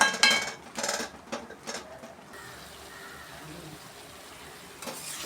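Ivy gourd (kovakkai) pieces stirred in a cooking pan with a few sharp metallic scrapes and clinks in the first two seconds, then a lid set over it, leaving a quiet hiss and a faint clink near the end.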